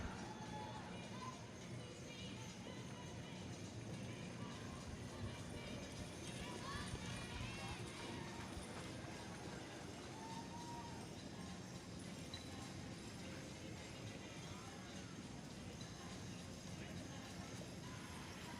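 Draft horse hitches trot around an arena during a six-horse hitch championship, their hooves a continuous busy patter beneath steady crowd noise and an announcer's voice.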